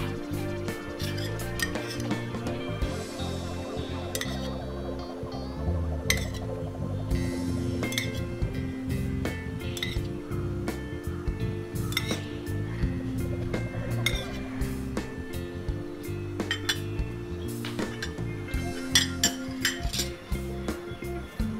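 A metal appe pan being oiled in a kitchen, steady clinks and light metallic taps repeating throughout against a low background hum.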